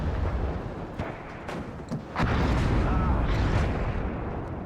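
Artillery counter-battery fire striking a smoke mortar in Warno, a low rolling explosion swelling into a sustained roar after scattered distant thuds, with a voice talking over it.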